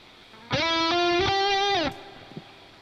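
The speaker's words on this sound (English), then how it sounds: "I think it's a very nice reverb, actually." Reverb on a soloed guitar track during a mixing session: a sustained, harmonically rich note rings steadily for over a second, then cuts off and leaves a faint decaying tail with a small late blip.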